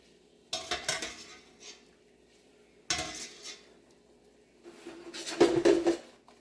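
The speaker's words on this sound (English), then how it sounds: "I'm going to transfer these gnocchi all into the pan" Ricotta gnocchi scraped and tipped into a pan on a low burner: three bursts of clinking metal utensils against cookware, separated by short pauses, with the last burst busiest and loudest.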